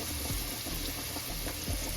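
Water pours steadily into a skillet for packet gravy on a home stovetop, a continuous close trickling and splashing with no talking.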